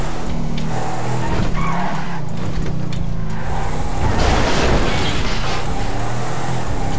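A Lamborghini Urus in GTA RP driving and skidding, with a loud engine roar and squealing tires sliding across pavement, building into a rushing burst midway through.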